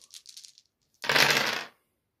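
Dice for a tabletop game clatter in a short burst of hard rattling across a surface, loud and close, after a brief lighter rattle.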